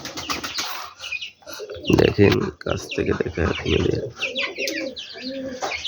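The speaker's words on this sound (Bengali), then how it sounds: "আবার ওইখানে আমার কবুতরগুলোও নিচে লেগে খাচ্ছে" Pigeons feeding on the ground near household poultry give soft, repeated throaty coos and brief wing flaps close by, mixed with someone talking over them throughout.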